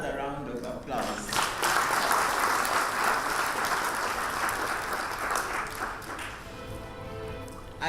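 An audience at a county government policy launch gives a round of applause, a broad burst of clapping that swells and then fades after several seconds.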